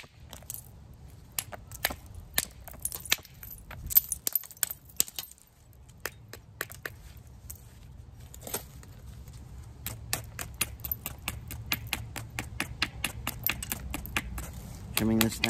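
A quartzite hammerstone strikes stone while flintknapping, giving sharp, close clicks and taps scattered irregularly over a low, steady background rumble.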